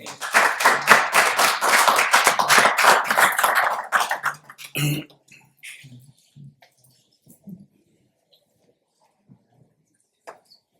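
An audience at a world leaders summit breaks into a burst of clapping that lasts about four seconds, then fades to a few scattered claps in a quiet room.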